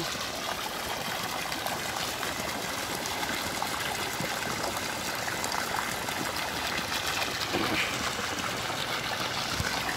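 Water pours steadily into a concrete fish pond, a continuous close rushing and splashing flow that stays even and dense throughout, with no voices.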